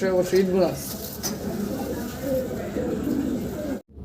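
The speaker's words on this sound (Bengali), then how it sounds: "এই কবুতরটা শাহরামপুরি আর এটা হলো সিঙ্গেল একটা নর কবুতর" Pigeons, including a single male Shahrampuri, coo in a short, close burst near the start, followed by someone talking over the pigeons' continuing soft calls.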